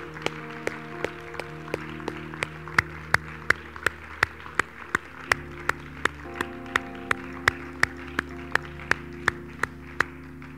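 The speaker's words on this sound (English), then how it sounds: "Let's give God one great round of applause before we go." A church congregation at a Sunday service claps in sharp, evenly spaced beats over sustained organ or keyboard tones, a steady rhythmic pulse rather than a dense ovation.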